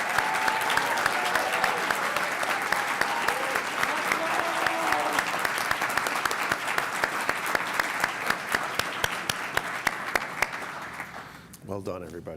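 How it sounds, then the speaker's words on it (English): A graduation audience at an engineering school commencement gives a sustained, dense round of applause that holds steady and loud for most of the stretch before tapering off at the very end. "One more round of applause."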